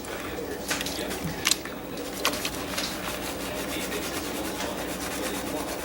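Gravel and water swirl in a gold pan, giving a continuous gritty rubbing and sloshing with a few sharper scrapes, close and moderately loud, with no talk.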